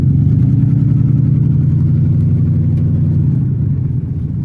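A car drives up a slick, slippery slope and turns around, a steady close low engine rumble and drone that holds nearly constant throughout, easing slightly near the end, with no voices.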